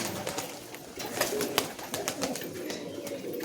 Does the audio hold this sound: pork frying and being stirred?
no